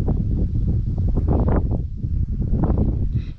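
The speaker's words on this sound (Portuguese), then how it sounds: "E o vento não para" Wind blows across an outdoor fish farm, strong continuous gusts buffeting the microphone with a low rumbling roar that swells and dips, and no one speaks.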